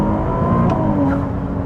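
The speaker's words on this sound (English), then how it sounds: "It's got good blow-off sound too." A Ferrari 296 hybrid with a turbocharged V6 accelerates in second gear, its engine drone rising steadily, with brief turbo blow-off whooshes breaking through near the driver.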